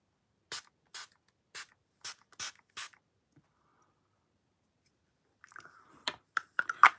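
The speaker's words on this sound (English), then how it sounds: "Revolution Pore Minimising Setting Spray" Revolution Pore Minimising Setting Spray is pumped in a string of short, sharp hisses, about six evenly spaced close spritzes, then a pause before a quicker cluster of softer clicks and sprays.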